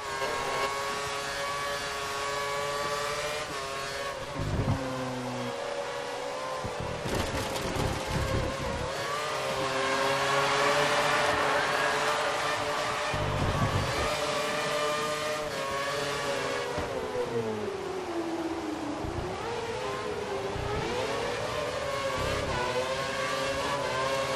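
Formula One car in the F1 2013 video game at full revs on a wet Spanish circuit, a loud, sustained high-pitched engine whine that rises and falls with gear changes, heard onboard.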